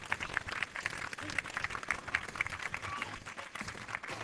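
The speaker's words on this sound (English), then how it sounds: "So please welcome with a big hand clap, Mrs. Catherine Patterson." Audience at a school language arts event applauding with hand claps, a dense, fairly faint patter of many clapping hands with a voice speaking over it.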